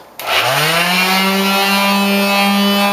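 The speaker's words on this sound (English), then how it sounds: "So just with the 1/4 sheet sander, I'll sand everything smooth." A quarter-sheet power sander runs on wooden boards for a napkin holder, giving a steady, loud motor whine that starts abruptly and holds an even pitch for the whole stretch without speech.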